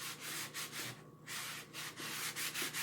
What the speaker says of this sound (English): after I apply this, I'm going to give it a good buffing.